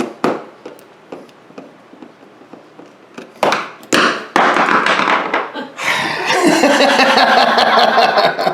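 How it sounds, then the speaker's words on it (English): A screwdriver dropped during a smart dimmer switch install lands in a few sharp taps and clatters, followed by louder rustling and handling noise close by. "how many times am I going to drop the screwdriver?"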